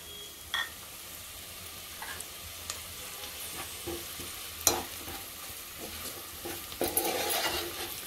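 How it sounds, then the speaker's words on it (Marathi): Turmeric, then homemade Koli masala, frying in oil in a pot for harbhara amti: a steady low sizzle with occasional stirring scrapes and light clinks of a spoon against metal, no talking. "हळद परतून घ्यायची तेलावर चांगली।"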